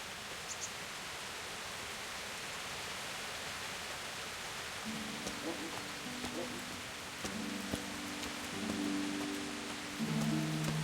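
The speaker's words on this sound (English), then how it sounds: "That's some heavy rain." Heavy rain pours steadily in the medieval game Kingdom Come: Deliverance, a dense, even hiss throughout, joined midway by faint tonal music and soft scattered knocks.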